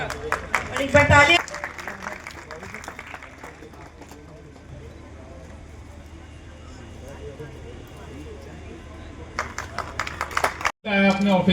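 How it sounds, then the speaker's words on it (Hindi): An audience at a gathering gives another round of applause, a loud burst of clapping at the start under a voice, fading to a low murmur, then more clapping returning near the end. "और एक बार ताली"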